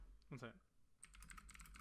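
Rapid, close clicks of fingers typing on a computer keyboard fill the second half during a casual anime podcast recording, following a brief voice at the start.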